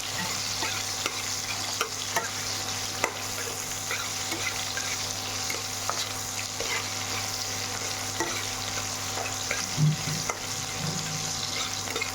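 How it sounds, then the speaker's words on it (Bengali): Onion and cumin frying in a pan, a steady continuous sizzle with faint stirring scrapes, close and even throughout. "পেঁয়াজটা আমার ভাজা হয়ে গেল"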